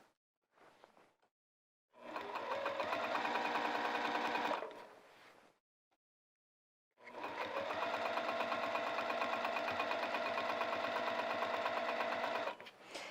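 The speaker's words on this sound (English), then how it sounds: "I'm sewing right on top or just to the outside of the previous stitching where I added the piping" Sewing machine stitching over the piping on the inner leg seam of lounge pants, two sustained runs of fast, steady whirring with a short pause between, close and alone.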